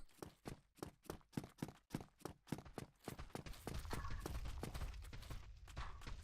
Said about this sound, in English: The sounds of footsteps are very pervasive in this game